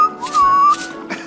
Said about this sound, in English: And you can whistle to show you're happy.